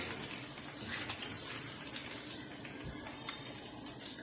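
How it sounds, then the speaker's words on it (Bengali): Freshly fried sweets drain in a metal strainer, giving a steady, close hiss of dripping, trickling oil, with a few small clinks and knocks over the continuous wash of sound. "একটা স্ট্রেনারের মধ্যে আমি সবগুলো মিষ্টি তেল ঝরিয়ে উঠিয়ে নিচ্ছি।"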